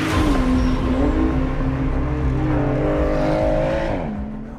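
A Porsche 935 race car with a turbocharged flat-six engine drives past loudly and close, its engine note holding high then dropping sharply as it pulls away and fades.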